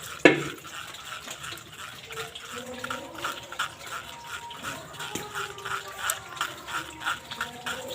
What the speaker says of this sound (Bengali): এইভাবে চামচ দিয়ে নাড়াচাড়া করে থেকে নিচ্ছি